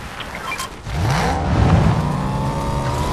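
A car in the Fortnite video game accelerates and revs up after a brief lull, its engine rising in pitch and holding loud and close as it drives off.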